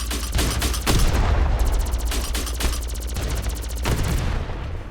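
Rapid automatic gunfire from a weapon in the mini-mech combat game Mech Havoc on PC, loud dense bursts of repeated shots running nearly throughout with brief gaps, no talking.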